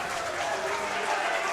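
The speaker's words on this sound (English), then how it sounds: "The crowd erupts." A crowd at a Smash tournament cheers and applauds in a steady, dense roar of clapping and shouting that holds throughout.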